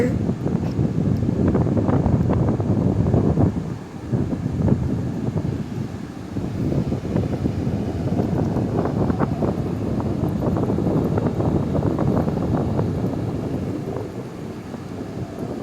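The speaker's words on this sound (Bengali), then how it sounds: "প্রচণ্ড হাওয়া দিচ্ছে" Strong wind buffets the microphone at the Digha sea estuary, a loud continuous roar with gusty swells and brief lulls, no talking heard.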